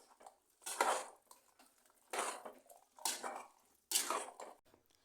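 Ground masala being stirred with water in a pot, a spoon scraping and clinking against the metal in four short bursts separated by quiet pauses, close and fairly soft.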